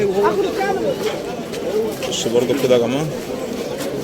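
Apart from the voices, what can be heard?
pigeons cooing at a bird market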